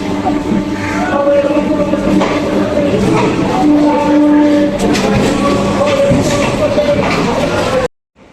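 Sonarpur carshed 50000 series local train pulling into platform 19, a steady loud rumble of wheels and motors with squealing tones, ending abruptly in silence; people talk faintly in the background.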